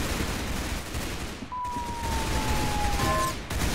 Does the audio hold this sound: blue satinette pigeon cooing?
no